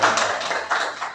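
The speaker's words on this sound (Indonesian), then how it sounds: "Alhamdulillah tepuk tangan ya" Audience members clapping their hands at a school gathering, a loud, close, uneven patter of claps with slight swells throughout.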